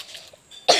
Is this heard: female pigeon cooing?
no